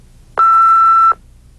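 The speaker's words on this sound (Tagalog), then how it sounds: "Please leave a message after the beep." Answering-machine voicemail beep: a single steady electronic tone, loud and clean, lasting under a second, with quiet hiss before and after.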